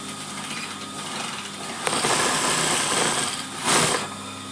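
A sewing machine stitches a flower headband, running in a steady whirring burst that swells partway through, close and fairly loud with no talking.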